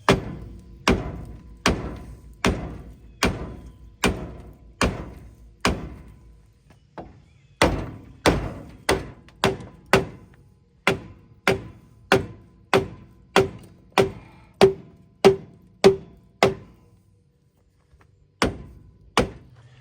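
Metal tapping on a lubricated brake drum to free a stuck brake, about two dozen sharp ringing knocks in a steady rhythm with a short pause midway and a longer gap near the end.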